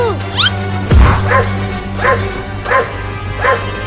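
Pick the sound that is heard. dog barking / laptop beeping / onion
dog barking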